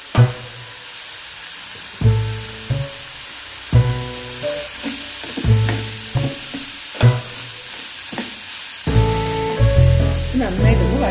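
Coconut pieces, ginger-garlic paste and green chili sauté and sizzle in a pan, with steady frying hiss and stirring bursts under rhythmic background music.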